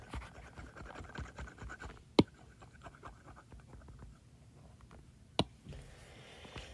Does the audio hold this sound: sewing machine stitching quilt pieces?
no